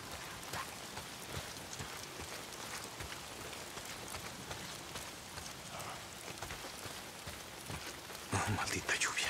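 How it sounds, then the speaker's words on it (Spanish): Steady rain pours down across a bleak outdoor scene in Days Gone, a constant hiss of drops that grows heavier and closer near the end, with a voice faintly present. "¿Por qué siempre está lloviendo?"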